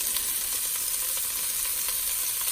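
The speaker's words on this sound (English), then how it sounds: "I'm also going to put my carrots in this pot so they have a chance to cook" Carrots hit a hot pot for pork and pineapple fried rice, giving off a steady, close hiss of sizzling that holds evenly throughout, with faint stirring ticks and no voices.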